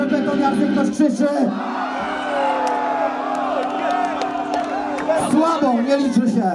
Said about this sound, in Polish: Ktoś krzyczy.